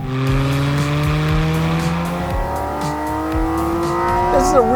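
Porsche Cayman GT4 RS with its track-focused seven-speed gearbox, engine pulling loudly through the revs with sharp gear changes and rising pitch, a brief tire chirp late on.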